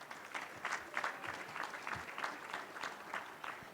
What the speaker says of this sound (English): Please give me a warm round of applause for Mr. Dion Clisso of Preps KC